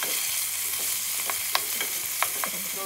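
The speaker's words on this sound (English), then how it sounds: "Fried beef has been cooking for about 5 minutes." Beef frying in oil, browning in a pan: a steady bright sizzle runs throughout, with a few soft stirring scrapes and taps close by.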